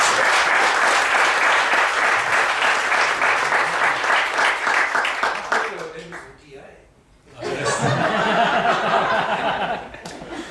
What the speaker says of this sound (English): So a round of applause to them, please